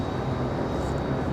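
An Airbus A319 airliner on a United flight from Houston arrives at Raleigh-Durham airport, a steady, loud broadband jet roar with a faint high whine running through it, holding level from start to finish.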